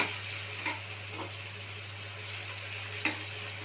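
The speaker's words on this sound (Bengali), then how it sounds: "পেঁয়াজটা ভাজা হচ্ছে" Onion fries on high gas flame in a pan, browning lightly in a steady soft sizzle with a few brief scraping stirs over a low hum, no talking.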